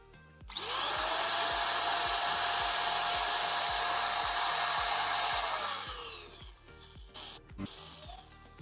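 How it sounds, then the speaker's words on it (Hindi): A Wadfow electric spray gun switches on close by, its motor and exhaust fan whirring in a loud, steady, high-pitched whine for about five seconds before spinning down, over a rhythmic background beat. "पीछे जो इसकी मोटर है ना उसमें एग्जॉस्ट फैन वगैरह घूमता है तो आवाज़ तो आती है"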